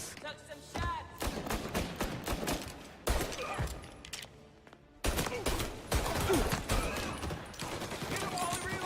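Gunfire bursts in Mafia: Definitive Edition during a cover firefight, sharp loud cracks in clustered volleys with short pauses between, mixed with thuds, game music and combat shouting.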